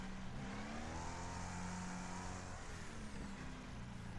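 A race car engine in Wreckfest running at full throttle, a loud, steady, close droning roar with a sustained high rev and no talking.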